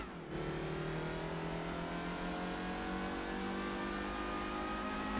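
Racing car engine from Gran Turismo 4, a steady loud high-revving drone with sustained harmonic whine, held continuously throughout without pauses or talk.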